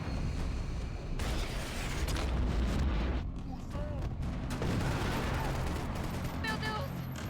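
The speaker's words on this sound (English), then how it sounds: "Rocket launcher!" Rolling explosions and dense gunfire in the action game Max Payne 3 during a frantic vehicle escape in Brazil, a continuous loud barrage with rocket launcher blasts, under overlapping shouting voices.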